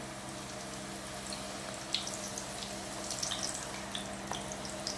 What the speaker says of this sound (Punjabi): ਹੁਣ ਅਸੀਂ ਇਹਨੂੰ ਤੇਲ ਵਿੱਚ ਪਾਣ ਲੱਗੇ ਆ ਯੇ ਪਹਿਲੀ ਪੂਰੀ ਅਸੀਂ ਪਾ ਦਿੱਤੀ ਹੈ